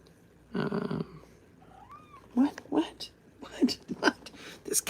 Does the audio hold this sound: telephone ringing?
no